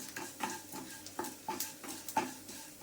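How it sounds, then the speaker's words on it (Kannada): Cumin seeds spluttering and popping in hot oil in a pan after chana dal has browned, a series of sharp crackles and pops at an irregular rhythm, close and clear with no talking. "ಜೀರಿಗೆ ಚೆನ್ನಾಗಿ ಸ್ಪ್ಲಟರ್ ಆಗಬೇಕು."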